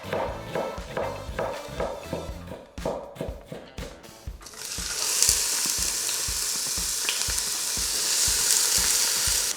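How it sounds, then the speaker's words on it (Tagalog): Chopped onion sizzles and fries steadily in hot oil in a cooking pot, preceded by several rhythmic knocks and stirring clatters before a loud, continuous crackling sizzle takes over. "Igigisa ko lang muna yung onion, yung garlic, pati na rin yung celery."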